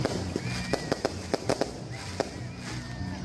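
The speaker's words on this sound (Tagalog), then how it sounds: "At aba, mayroon pang pa-fireworks." Fireworks at a bamboo nativity display in Pura, Tarlac, give a string of sharp pops and crackles with a few whistling rockets, scattered irregularly over a busy outdoor background.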